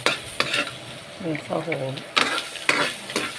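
Pinakbet vegetables being sautéed in a pan with little oil, a spatula scraping and clinking against the pan in short strokes over a soft sizzle while someone speaks in between.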